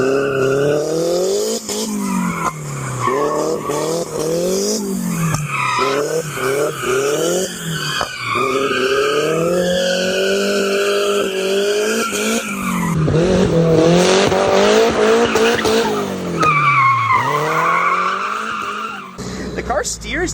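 A wrecked Miata rebuilt with a custom metal widebody slides through mud, the engine revving up and down in surges while the tires spin and skid, loud and close throughout.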